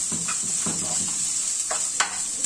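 Chopped green onion tossed in a hot pan over a steady hiss of sizzling, with a few quick scraping stir strokes and a light utensil tap, close and alone.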